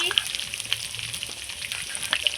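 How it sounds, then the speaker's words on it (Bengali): Potatoes fry with turmeric and salt in a pan, giving a steady close sizzle with scattered pops and crackles throughout. "এই দেখুন এবার আলুটাকে আমি হলুদ লবণ দিয়ে খুব সুন্দর করে লাল লাল করে ভেজে নেব"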